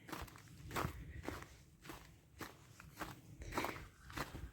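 Footsteps crunch along at an unhurried pace, about eight steps, close by, with no talking.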